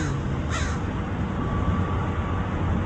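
A crow in San Francisco gives a single caw early on, clear above a steady background rumble of traffic or wind, with no talk.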